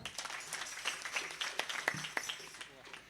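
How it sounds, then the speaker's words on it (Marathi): An audience at a devotional kirtan gathering claps in scattered, uneven bursts of individual hand claps, fairly close, with voices talking over and between the claps. "त्यांच्यासाठी एकदा टाळ्या वाजवा"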